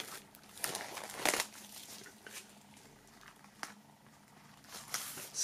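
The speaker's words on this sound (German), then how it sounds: "einfach mal in die Folie einschneiden und dann können wir das hier ablösen" Plastic shrink wrap on a music album box set is cut and peeled away, giving close, soft crinkling and crackling with a few sharper rustles and quiet handling noise. No one speaks.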